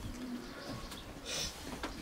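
Soft racing pigeon cooing with a brief flutter and a few faint chirps, heard close against a quiet, slightly noisy background.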